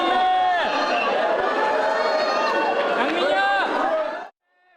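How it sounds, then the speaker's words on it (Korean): Loud, dense crowd cheering and shouting fills an airport arrivals hall as Tottenham players, led by Son Heung-min and Yang Min-hyuk, walk in, with many overlapping excited voices before the roar cuts off abruptly near the end. "공항이 떠나갈 듯 뜨거운 환호가 터져나옵니다"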